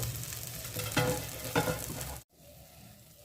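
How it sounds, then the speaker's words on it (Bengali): Chopped tomato and capsicum fry in a pan, a quiet steady sizzle with a few scraping stirs, cutting off abruptly and then returning as a fainter simmer. "টমেটো কুচোগুলো দেওয়ার পর ভালো করে এটা ভেজে নিতে হবে"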